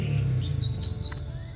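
An orange-headed thrush kept at home chirps a few high, thin whistled notes, clear and fairly close, over a faint low background hum.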